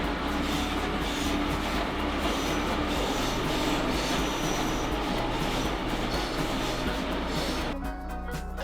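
A heritage train rolls steadily along the rails with a continuous rumble and rattle of carriages, ending in an abrupt cut.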